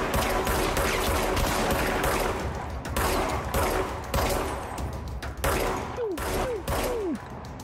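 Continuous gunfire in the action video game Control, with dense rapid bursts and repeated shots over a steady loud background, some whooshing effects near the end, and no talking.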